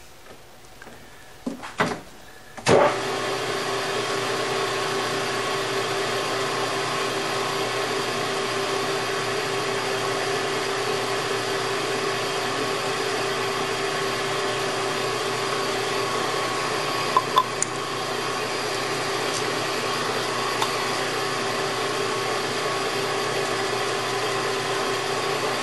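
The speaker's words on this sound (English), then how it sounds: "We're ready to cut our threads." A lathe cuts threads at 20 threads per inch for homemade coil-over shocks, starting with a few clunks before settling into a steady, even machine whine and hum that runs on unchanged for over twenty seconds.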